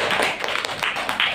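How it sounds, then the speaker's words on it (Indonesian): Classroom of children clapping hands together after student presentations, a dense patter of claps with a few louder bursts, close and steady for a brief moment. "Tepuk tangan kita semua."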